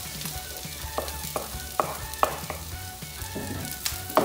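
Fajita vegetables fry over high heat in a pan, a steady broadband sizzle with occasional sharper crackles and pops spaced through it, fairly close and moderately loud, with no voices.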